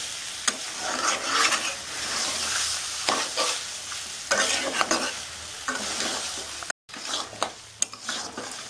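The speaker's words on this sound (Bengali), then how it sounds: "আমি বারবার একটু একটু করে জল দিচ্ছি আর কষছি।" Mutton being stir-fried and stirred in a pan with small additions of water for a Bengali-style curry: a steady close sizzle with repeated scraping strokes of a spatula, a brief dropout near the end.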